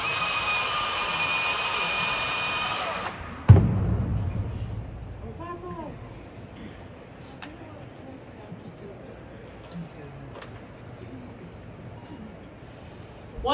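A top-handled chainsaw runs during a tree care demonstration at an equipment expo in Louisville, Kentucky, giving a loud, steady whine for about three seconds before cutting off abruptly into near silence.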